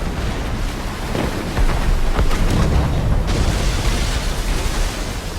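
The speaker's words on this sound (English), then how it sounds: "Cannon fire. Deep within the fog." Cannon fire deep within fog at sea in Assassin's Creed Rogue: muffled, distant booms rolling over steady ocean ambience, with a denser burst of blasts in the middle.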